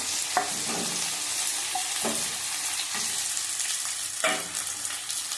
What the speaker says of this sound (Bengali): এবার সব ভেজে নেবো ভালো করে।